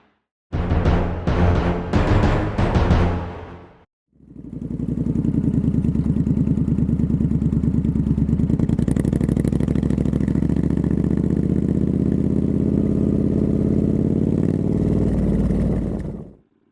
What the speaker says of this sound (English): Just doing a short road test with the new exhaust fitted.